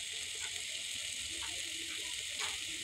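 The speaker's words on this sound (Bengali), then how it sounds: "নেড়ে চেড়ে আমি ভালোভাবে কষিয়ে নিব।" Pangas fish cooking with chopped tomato and green chillies, a steady hiss of sizzling oil with soft scraping as the pan is stirred, close and continuous, with faint speech in the background.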